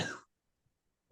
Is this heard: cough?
yes